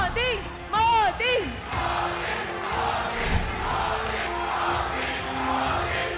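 A rally crowd chants Narendra Modi's name in rising, sing-song waves, loud and close at first, then settles into a dense, steady roar of cheering voices.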